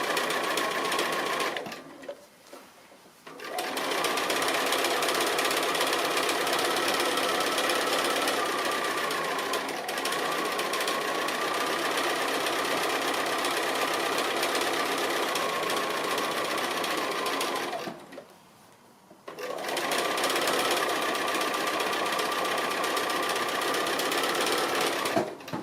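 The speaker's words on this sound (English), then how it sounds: "I'll continue on doing double stitching on all my lines for my tree" A sewing machine double stitching a tree silhouette on fabric, running in a fast, steady whirring buzz close by, stopping briefly twice before starting again, with no talking.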